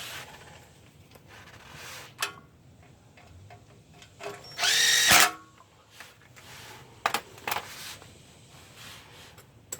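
A power tool runs oil pan bolts up on a Jeep Wrangler JK during a gasket replacement, with short bursts of whirring, one louder sustained spin midway, and scattered metallic clicks and clanks nearby.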